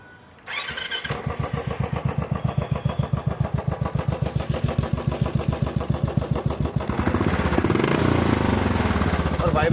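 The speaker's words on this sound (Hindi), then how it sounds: "अब मैं आपको सुनाता हूँ इन दोनों के एग्जॉस्ट नोट" A Royal Enfield Classic 500 motorcycle starts up close by and settles into its characteristic slow, even thumping exhaust beat. The engine revs slightly higher toward the end.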